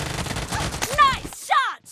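Gunfire in a team deathmatch shooter game, rapid bursts of shots mixed with chirping electronic tones, loud and close, ending in a sudden cutoff to near silence.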